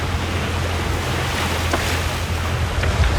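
Waves breaking over a sandbank, heard from a sailboat heading south along the coast: a steady, close broadband wash of surf under a low, constant engine drone, with no talking.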